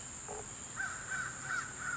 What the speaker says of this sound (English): Can you hear this crow?